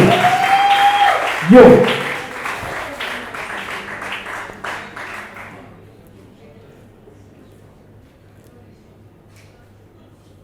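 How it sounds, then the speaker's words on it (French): Audience applause at a slam poetry performance, dense and loud at the start with a shout over it, then thinning out and fading to near silence after a few seconds. "C'est pas comme ça qu'on applaudit pour un philosophe."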